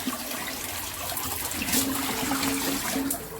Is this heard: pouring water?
yes